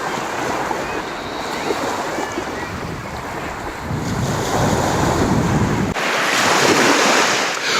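Surf rolling onto the beach at Portobello, Edinburgh, heard with strong wind buffeting the microphone; the roar swells louder partway through as a wave breaks nearby, with no speech.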